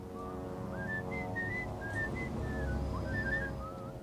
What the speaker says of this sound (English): And the whistle comes from the Bernie Smith